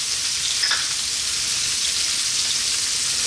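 Chopped garlic and red chili frying in a pan over high heat give a steady, close hiss of sizzling oil with no speech.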